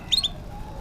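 A canary gives a brief bright chirp, two or three quick high notes, close and clear over a low background hum.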